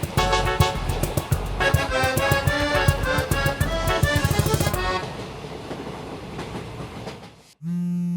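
A passenger train rattles along with rapid clickety-clack beats heard from inside a railway carriage by the window, loud at first, then easing into a quieter rumble before a short tonal beep at the end.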